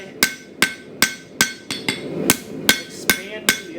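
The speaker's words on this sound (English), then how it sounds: "expanding the other side of your blade by hammering on that side" A hammer striking a hand-forged coil spring steel knife blade on an anvil: about ten sharp, ringing metallic blows at a steady, moderate pace, close and loud with brief metallic ring after each hit.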